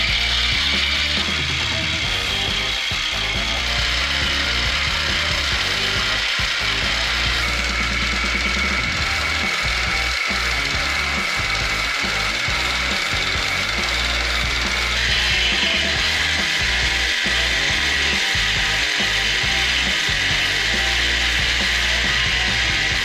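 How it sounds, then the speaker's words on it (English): Jigsaw cutting wood for a boat cabin top, a steady loud buzzing rasp with rapid blade chatter that runs continuously and close throughout, with no voices. "But let's see how it goes with the jigsaw."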